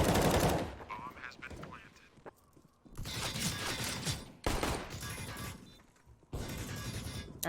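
Gunfire in Counter-Strike: Global Offensive during a competitive match, with rapid bursts of pistol shots in loud clusters separated by brief pauses, under busy game noise.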